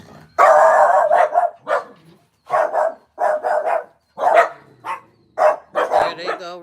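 Dogs bark loudly and close in repeated bursts, yipping and woofing with short pauses between volleys after someone rings the doorbell at the house.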